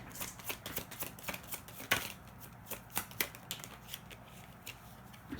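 Angel cards shuffled by hand, giving a run of quick, crisp riffling snaps and flicks at an irregular rhythm, close and fairly quiet with no talking.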